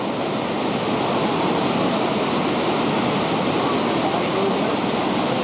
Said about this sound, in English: Here's another scene of the waterfall.